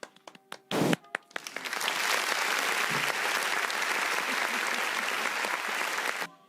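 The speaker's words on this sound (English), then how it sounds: "We'll give him a round of applause for a start." After a few scattered claps and a sharp knock, an audience at a talk show breaks into sustained applause that stays full and steady for several seconds before stopping abruptly.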